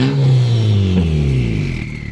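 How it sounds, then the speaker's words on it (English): Honda CR-V turbo engine fitted with a custom exhaust, revved up close and loud, its droning tone sweeping and then easing back down as the throttle settles. "That turbo sounds really nice."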